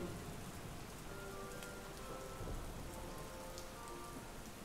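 Steady rain falling in the woods, a soft, even hiss of drops pattering on surfaces throughout, fairly faint and unbroken, with no talking.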